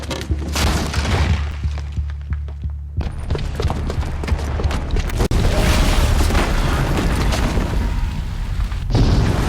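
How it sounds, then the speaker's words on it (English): Bomb blast in the action video game Horizon Zero Dawn, a loud sustained rumbling roar with crashing, shattering debris and booming impacts, dipping briefly before surging again and continuing for several seconds. "the booby trap on the bomb downstairs is gonna get set off"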